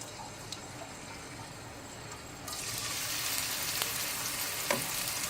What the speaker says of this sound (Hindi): ये 3 से 4 प्याज है, इसको अच्छे से फ्राई करना है